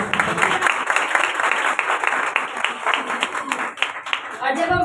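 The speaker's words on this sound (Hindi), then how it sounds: "जोरदार तालियां।" Loud, dense applause fills a church meeting led by a pastor, a steady wash of many hands clapping with voices mixed in throughout.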